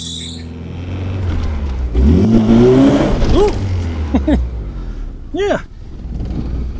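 A truck does a short burnout as a revving engine climbs and roars, joined by scattered squealing tire chirps. Voices talk loudly over it, nearby and outdoors.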